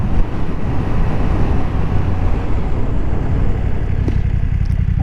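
A BMW F 900 R motorcycle slows hard from around 50 mph under Brembo brakes, a steady loud rumble of engine and rushing wind filling the whole stretch with no voices.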